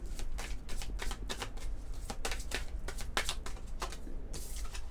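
A deck of oracle cards is shuffled in quick riffling bursts, close and crisp, repeating irregularly throughout with no talk.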